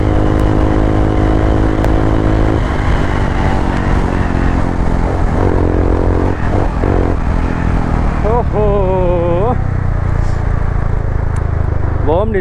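Royal Enfield Himalayan 411 motorcycle fitted with an Akrapovic exhaust, its engine droning loudly and steadily throughout while someone talks over it.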